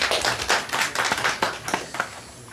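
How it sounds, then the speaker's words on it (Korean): An audience at a disability welfare policy forum claps for a presenter, a short burst of brisk, fairly close applause from a modest crowd that thins out toward the end. "다시 한번 발표해 주신 남건우 원장님께 큰 박수를 부탁드립니다."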